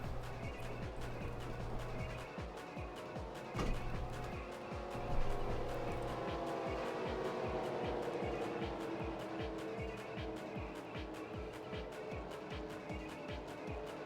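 Stock cars in a NASCAR-style racing game at Pocono slow onto pit lane, engines droning and buzzing together with a rhythmic pulsing whine, a couple of louder moments mixed in.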